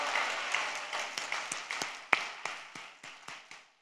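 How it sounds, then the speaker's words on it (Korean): Congregation at a Pentecost revival meeting at Osanri Prayer Mountain clapping in unison, a rhythmic series of about a dozen sharp, loud claps at a steady beat, each ringing out briefly in the hall, with a faint murmur of voices at first. "그런데 이 정도 박수 소리 갖고는 설교를 할 수가 없습니다."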